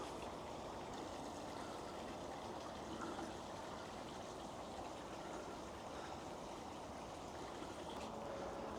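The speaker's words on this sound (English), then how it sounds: "this water is draining off the recent rain we've had" Rainwater draining off Lancashire moorland rushes steadily from a reservoir outlet, a constant broadband gush that stays even and close with no voices.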